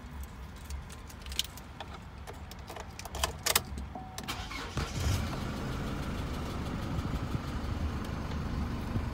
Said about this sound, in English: I'm just gonna turn the car on quickly so we can have a look at what that looks like.